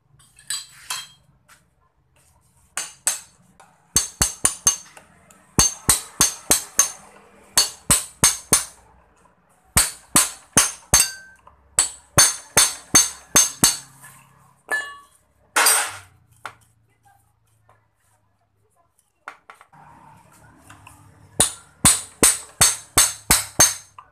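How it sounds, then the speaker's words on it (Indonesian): Metal tool tightening the lower nut on a Yamaha MX King 150cc motorcycle: rapid, close runs of sharp metallic clicks and ratcheting taps in clustered bursts, with a brief scraping rush midway and quiet gaps between. "Untuk pertama-tama kita kencangkan dulu ya bagian mur yang bawah."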